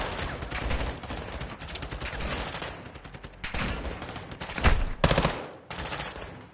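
Rapid gunfire crackles through a Call of Duty Modern Warfare 2 firefight, steady and dense, with louder close blasts near the end that fit shotgun shots.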